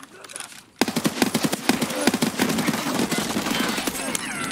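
Automatic gunfire in the shooter game Escape from Tarkov: after a brief quiet start, rapid bursts of loud, closely spaced shots crackle on for several seconds with no speech.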